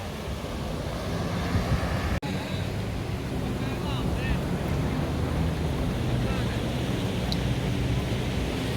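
Wind and surf roll along Patong Beach, a continuous broad wash of waves and gusts buffeting the microphone, with one sharp click early on and no clear voices.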